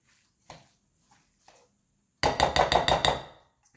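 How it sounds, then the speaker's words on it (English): A spoon stirs spinach into plain yogurt in a bowl, first a few soft isolated taps, then a loud burst of rapid repeated clinks and scrapes close by. "I'm just going to give this a stir, kind of mix that spinach in with that plain yogurt"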